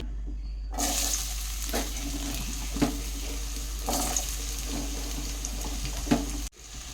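Chopped potatoes dropped into hot oil in a wok sizzle steadily throughout, with a few louder crackles as pieces are added or moved, close and fairly quiet, with no talking.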